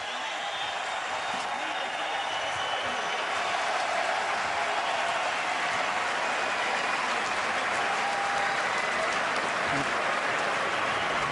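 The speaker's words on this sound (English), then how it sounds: "So the crowd responding here down the stretch." A large crowd at an MMA fight in Boston, Conor McGregor against Max Holloway, keeps up loud, sustained applause and cheering with voices blended into the roar.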